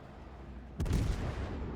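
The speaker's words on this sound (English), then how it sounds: "I fire a few shots back" Zao cruiser in World of Warships fires a salvo of its guns, a sudden loud broadband boom that cuts in after a quieter stretch and rolls into a sustained rumbling tail.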